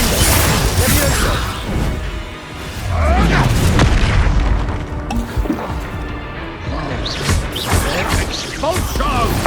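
Repeated Expulso explosion spells in the Hogwarts Legacy video game, loud booming blasts with crashing debris over busy game music, clustered across the stretch with a shouted voice among them.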